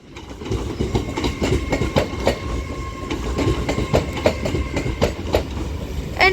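An Avanti West Coast Class 390 Pendolino passes through Crewe station, loud and close, its wheels beating a rapid, steady clickety-clack over the rail joints with a rising roar.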